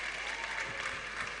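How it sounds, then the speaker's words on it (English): An audience applauds a Vice Chancellor at a university nursing induction, a dense, even burst of many hands clapping, continuous and fairly loud for the short stretch. "Please, a round of applause to the Vice Chancellor"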